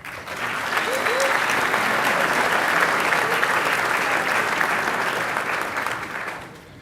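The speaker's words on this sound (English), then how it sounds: "Please provide one more round of applause for these winning competitors." Sustained audience applause for winning cyber competition teams at an awards ceremony, a full even wash of many hands clapping that rises quickly, holds steady and fades near the end.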